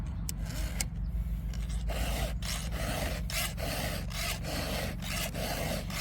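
A file is drawn across a chainsaw chain to sharpen it, making about eight rhythmic rasping strokes, each a short scrape at an even pace, close and clear over a low background hum.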